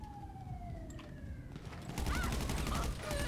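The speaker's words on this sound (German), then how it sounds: "Den knall ich aber jetzt ab." Gunfire in the video game GTA 5 Online during a gang fight, heard as rapid bursts over a background siren and game noise, fairly quiet in the mix.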